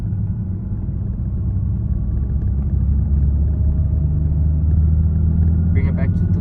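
Engine of a manual-transmission car rumbling steadily and rising slightly in revs as the gears are shifted, a continuous close low drone throughout the clip.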